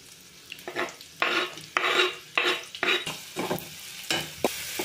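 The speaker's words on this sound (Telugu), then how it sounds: "ఇదిగోండి అదే ఆయిల్లోని మనం ఆనియన్స్ వేపుకుందాం. ఆనియన్స్ పచ్చిమిర్చి వేసేసుకుందాం." Onions and green chillies fry in oil for an egg curry, with a spatula scraping and stirring the pan in repeated close strokes over a soft, steady sizzle, and nobody speaks.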